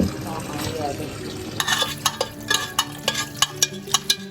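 White sauce pasta stirred in a pan on a home stove, a spoon scraping and tapping against the pan in a quick regular rhythm over soft sizzling, close and clear.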